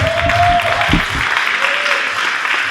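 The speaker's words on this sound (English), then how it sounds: "Let's give him a round of applause." Audience applause at an awards event welcoming a guitarist, a broad sustained clapping with a brief voice and tones over it early on.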